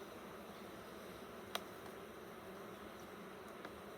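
Bees buzzing around an open hive during an inspection, a steady low droning hum close by, with a faint click partway through.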